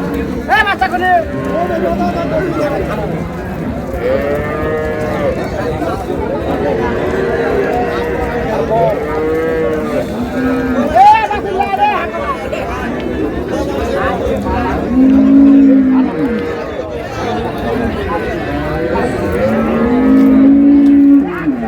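Cattle moo repeatedly at a busy livestock market, the Raniganj haat in Dinajpur, where dairy cows and calves are sold. The long lowing calls rise over steady crowd chatter and nearby voices talking.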